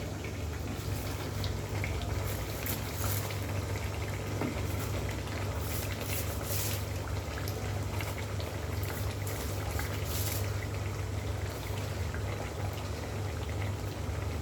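Cabbage drops into a pot of sizzling spiced beef curry (bhuna), giving a steady, close, hissing sizzle that runs unbroken with no talk.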